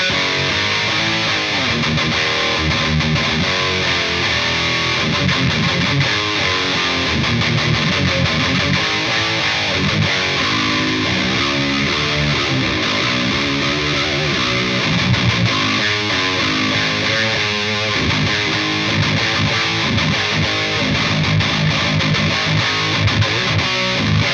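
Distorted electric guitar through an STL Tonehub preset with a hardcore-style tone, playing loud and continuous chugging riffs with dense, saturated sustain for the whole stretch.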